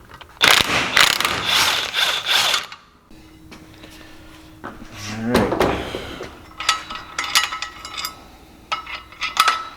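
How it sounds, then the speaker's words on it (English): Ratchet wrench loosening T50 bolts on the clutch of a Can-Am X3, with rapid clicking pawl bursts, metallic clanks and tool handling, loud and close with brief pauses between runs. "Take these 3 bolts out, T50s."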